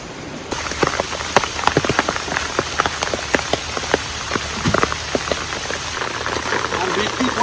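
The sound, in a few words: rain falling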